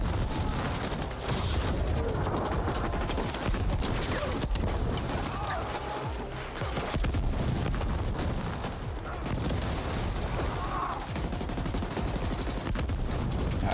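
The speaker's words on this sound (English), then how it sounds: "Beanie just causing mayhem with a grenade launcher" Grenade launcher firing in the video game The Ascent, a dense, continuous barrage of booming blasts and rapid gunfire-like bursts that stays loud and chaotic throughout, with no pauses.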